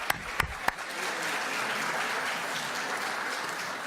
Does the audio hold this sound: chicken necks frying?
no